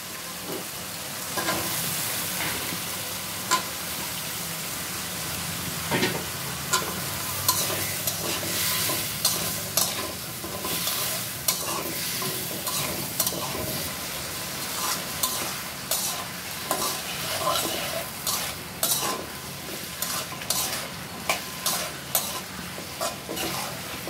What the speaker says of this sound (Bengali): আলু আর ডাঁটা সুন্দর করে কষানো হয়ে গেছে